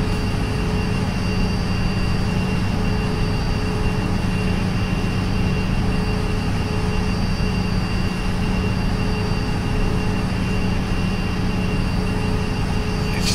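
Boeing 777 airliner engines in the X-Plane 10 flight simulator drone at a steady, loud, unbroken roar with a low rumble and faint high whine, continuous throughout and with no voices.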